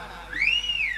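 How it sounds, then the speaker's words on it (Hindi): A single rising and falling whistle, clear and steady for about half a second, with faint background noise beneath. "तुम्हें सीटी बजावे में बड़ा आनंद आ रहा"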